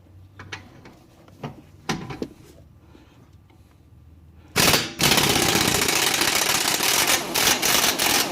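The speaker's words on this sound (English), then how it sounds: "We're first going to start by removing the 17mm bolt." An impact wrench undoes a 17mm bolt on a car shock absorber, with installation of KYB shocks and Tein S Tech lowering springs on an Infiniti G20, after a few scattered clanks of tool handling. Then comes a loud, sustained rattling hammer lasting several seconds.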